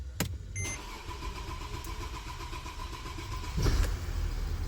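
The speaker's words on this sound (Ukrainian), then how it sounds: "Пробуємо завести автівочку новим ключиком." A Mercedes car engine cranks with a new key, the starter whirring briefly before the engine catches at the start, then idles steadily and revs up loudly near the end, close by with no talking.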